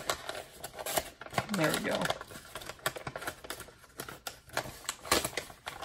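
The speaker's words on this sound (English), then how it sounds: "I'm going to actually bring it closer just to make sure I can peel off the tape." Tape is peeled off a package of football trading cards close up. Short scratchy, crinkly bursts and rips come in irregular spurts, and a person speaks briefly.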